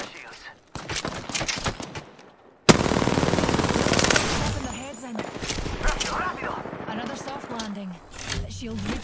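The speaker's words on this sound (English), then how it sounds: "They're shooting at me." Rapid automatic gunfire in Apex Legends, loud bursts and sustained streams of shots with game effects, while a voice talks over parts of the action.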